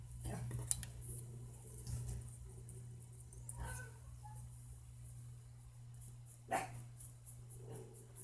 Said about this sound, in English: He's playing and he's barking.